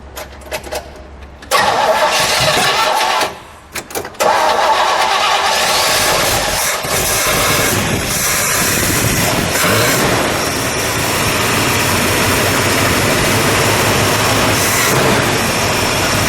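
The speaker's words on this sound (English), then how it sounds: "All right, so let's start her up," A 1955 Chevrolet Corvette roadster's V8 cranks briefly, pauses, then catches and settles into a steady, loud, close idle that rumbles on for over ten seconds with no voices.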